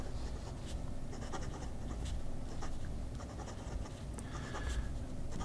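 A pen writes on Tomoe River paper, a soft, close scratching of short strokes and taps in an irregular rhythm, faint over a low steady background hum.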